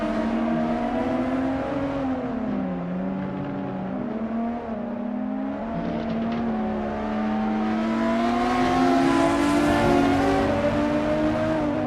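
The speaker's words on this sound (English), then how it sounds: "I love listening to the roar of these engines." GTR Legends race cars at Brno in Assetto Corsa, engines roaring continuously with rising and falling revs through gear changes, loud and steady throughout, no talk.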